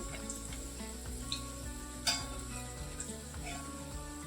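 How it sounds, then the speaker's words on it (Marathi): Paneer cubes frying in oil in a kadhai, a steady close sizzle with light clinks of a utensil against the pan. "अशाच पद्धतीने मी राहिलेलं पनीरही तळून घेणार आहे"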